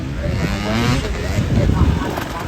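A TM dirt bike's engine drones steadily nearby as the rider heads out for another lap at a race camp, a sustained motor roar with no speech.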